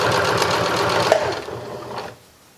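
Sewing machine stitching a seam on a reversible shoulder bag, a loud close steady whir for about two seconds before slowing and stopping.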